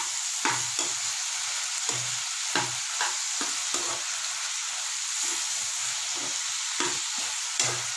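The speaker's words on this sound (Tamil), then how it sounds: "நல்லா வதங்கி பாருங்கள்" Peanut chutney ingredients, with tamarind, sautéing in a pan: a continuous close sizzle and hiss broken by recurring scraping strokes of a spoon stirring, with no talking.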